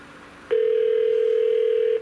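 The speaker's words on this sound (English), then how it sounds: "we're going to pick up line 2 and dial" Dial tone on a Norstar business telephone system as line 2 is picked up, a steady, loud continuous tone starting abruptly and holding for about a second and a half before cutting off.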